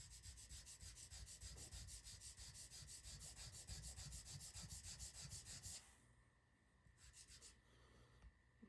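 A file bevels the side edge of a Miller Precision 2011 pistol grip being fitted to a Staccato XC, giving steady rhythmic rasping strokes close by for about six seconds, then fading to quieter intermittent scraping.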